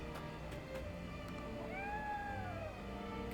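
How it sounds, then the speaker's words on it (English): A cat meows once in the Triangle Strategy video game, a short rising-then-falling cry heard faintly over soft game background sound. "Cat."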